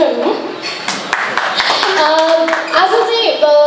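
An audience at a Vijaya Dashami gathering breaks into a burst of hand clapping that carries through the clip, with voices and chatter mixed in.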